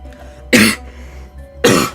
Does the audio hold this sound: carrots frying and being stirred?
no